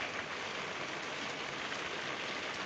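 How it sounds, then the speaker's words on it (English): Steady rain hisses down on a surface, a dense, even patter with no pauses and no voices. "Oh, rain is coming."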